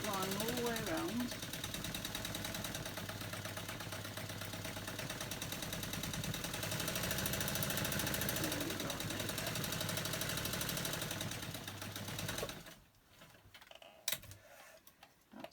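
Domestic sewing machine stitching fabric pieces of a Christmas catnip cat toy, a steady rapid mechanical whirring and ticking that runs continuously for most of the clip before stopping near the end.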